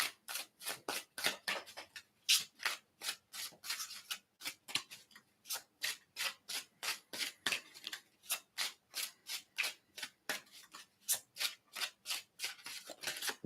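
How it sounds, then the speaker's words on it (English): A deck of cards is shuffled by hand over and over, each pass making a short papery riffle or slap in a steady, even rhythm, close and fairly quiet, with no talking. "We'll just keep shuffling until something comes out."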